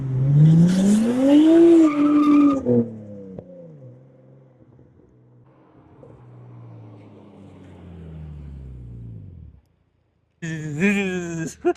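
Nissan GT-R exhaust heard from the rear while driving, a loud rising engine roar with tire-squeal-like tones, then a fading drone, a brief gap, and a renewed sharp rev burst at the end.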